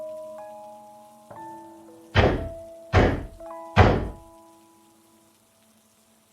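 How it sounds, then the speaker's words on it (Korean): Three heavy, evenly spaced thuds of someone knocking roughly on a door, standing out over a quiet background of sustained tones. "누군가 문을 거칠게 두드렸다"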